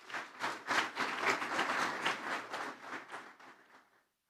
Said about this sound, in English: have a round of applause for the prep school students